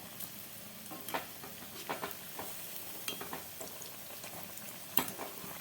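Continuous hissing of beetroot masala vadai frying in oil, with small crackles and pops scattered throughout and occasional light stirring sounds, no voices.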